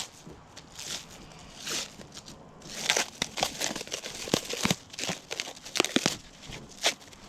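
Window screen mesh cut from the roll for a door screen repair, with crinkling and snipping rustles, close and irregular, busier in the second half and without speech.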